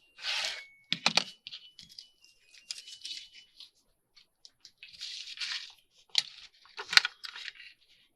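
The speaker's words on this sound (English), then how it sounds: "I know we want to cut this bottom end off." Craft paper being cut at its bottom end, giving a series of short, close snips and rustling tears in uneven bursts with quiet gaps between them.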